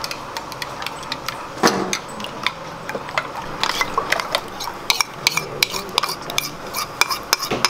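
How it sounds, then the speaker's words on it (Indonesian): Eggs whisked with a spoon in a bowl for a butterscotch chocolate pudding: steady, rapid clinking and scraping of metal against the bowl, close and fairly loud, with no talking. "Telurnya kita kocok gitu ya, kocok asal lepas aja"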